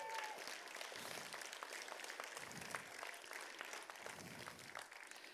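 A church congregation claps together in a faint, steady stream that continues throughout without breaks, with a few voices faintly mixed in.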